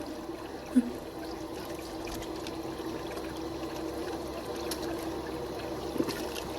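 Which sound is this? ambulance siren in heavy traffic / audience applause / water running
water running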